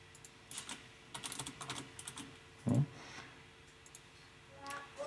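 Quiet bursts of clicky typing on a computer keyboard come in short irregular runs, with one heavier thump in the middle, close by and faint.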